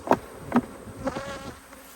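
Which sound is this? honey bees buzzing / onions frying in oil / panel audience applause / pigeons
honey bees buzzing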